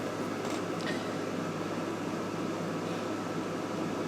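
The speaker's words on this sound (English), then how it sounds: "That noise is the fan of the air conditioner." Steady broadband whoosh of a room air conditioner's fan, running continuously at an even level with no pauses or voices.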